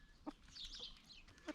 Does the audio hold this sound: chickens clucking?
yes